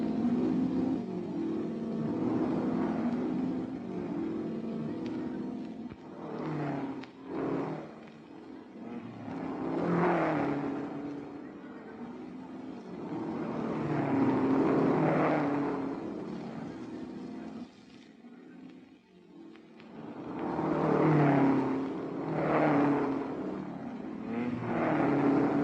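Vintage racing cars, including Ferraris, in the 1961 Tour de France Auto, their engines roaring and fading as they pass in waves, a muffled, continuous motor drone rising and falling over about half a minute, with someone talking over it.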